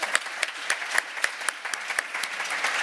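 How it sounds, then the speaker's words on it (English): An audience at a seascape restoration symposium applauds three speakers with a round of scattered, distinct claps at a steady moderate level, no voices on top. "another round of applause for Angela, Henrike, and Anna"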